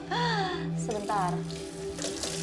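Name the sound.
water running from a tap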